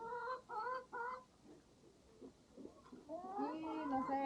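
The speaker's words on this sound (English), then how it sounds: "Baby chickens." Baby chickens on a Costa Rica farm cheep in quick bursts of high, thin peeps, first in three short groups, then a denser overlapping chorus near the end.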